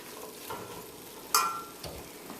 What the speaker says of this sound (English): I'm just going to give it a good stir.